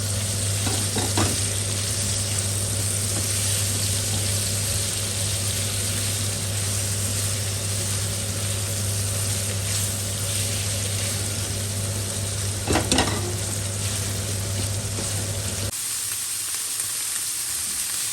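Mutton mince (keema) frying in a pan over a medium flame, giving a steady, loud, close sizzle with a few brief stirring scrapes, before the sound drops away near the end.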